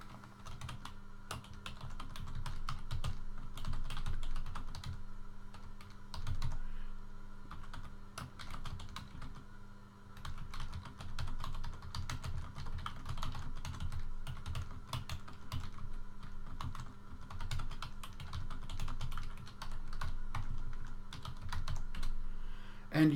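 Computer keyboard typed on steadily for a long stretch while a software license form is filled in, soft close clicks in uneven bursts and pauses, no talk.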